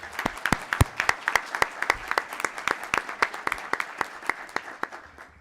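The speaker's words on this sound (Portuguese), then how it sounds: "Uma salva de palmas para vocês de estarem aqui." Audience clapping at a lecture on the new Civil Procedure Code and labour justice: a small crowd giving sharp, distinct, fairly sparse claps that keep up steadily and thin out slightly toward the end, with no talking.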